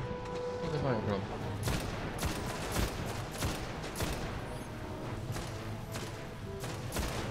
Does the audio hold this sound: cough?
no